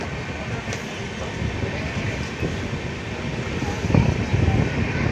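A train departs Chirala station with a steady, broad rumble and rattle of moving wagons, mixed with wind noise and a louder clanking surge near the end.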